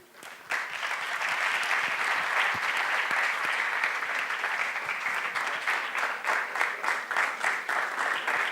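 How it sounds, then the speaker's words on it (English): An audience breaks into loud, sustained applause that starts suddenly and continues steadily, with individual claps becoming more distinct near the end. "Can we please have a huge round of applause?"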